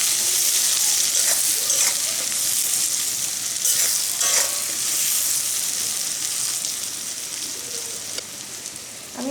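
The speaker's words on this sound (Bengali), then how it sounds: "এখন আমি বেগুনগুলো খুব ভালো করে ভেজে নেব।" Eggplant pieces seasoned with salt and turmeric frying in hot oil in a pan, a close, loud, steady sizzle with occasional stirring scrapes that eases slightly toward the end.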